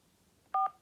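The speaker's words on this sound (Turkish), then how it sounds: "Güvenlik sebebiyle lütfen aşağıdaki numarayı telefonunuzun tuş takımını kullanarak girin." A single telephone keypad tone sounds briefly and clearly as a digit is pressed to enter a security number during a phone activation call, alone against a quiet line.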